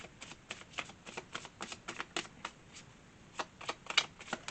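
Tarot cards shuffled by hand, a quick series of soft riffling snaps and slaps in an irregular rhythm, close and quiet, with no talking.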